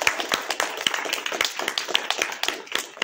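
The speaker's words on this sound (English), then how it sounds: "So let's give him a round of applause." An audience applauds after a talk on burn-marks and popular magic in Tudor England at the Alabama Renaissance Faire, a dense run of hand claps that keeps steady and fairly loud for the whole stretch.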